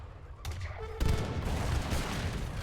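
Leather cannons firing in a strategy video game as they attack Forest Prowlers, a dense volley of overlapping booms and cracks that keeps going without a break, with a faint voice underneath.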